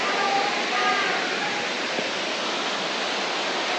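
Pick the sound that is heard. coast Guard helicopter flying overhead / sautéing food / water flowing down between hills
water flowing down between hills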